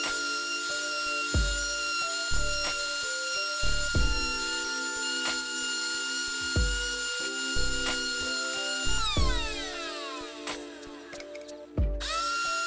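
A router fitted with a roundover bit cuts the edge of a wooden speaker ring, a steady high motor whine broken by repeated rasping bursts as the bit bites into the wood, close and loud with no talk.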